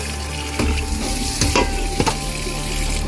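Long-grain basmati rice is washed by hand in water while preparing chicken biryani, giving a continuous wet swishing with a few sharper splashes and scrapes, close and moderately loud, with no voices.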